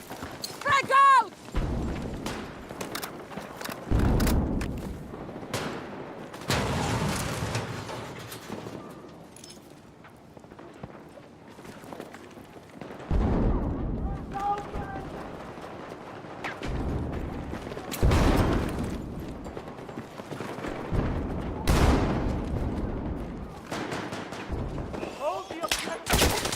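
Frag grenade blast and gunfire in a military shooter game, with repeated loud broadband bursts and crackling shots spread through the clip, mixed with game voice callouts.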